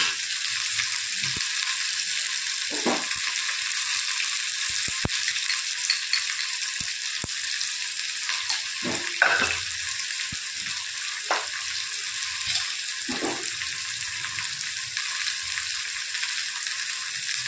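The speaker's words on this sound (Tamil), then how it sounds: "இதை நல்லா வதக்கிடுக்கணும்." Radish, carrots and drumsticks with masala sautéing in a pan, a steady bright sizzle throughout with occasional scrapes and clinks of a spoon stirring.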